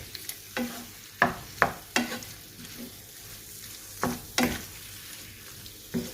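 A spoon stirs beef liver and yogurt in a frying pan, making repeated scrapes and clinks over a faint, steady sizzle.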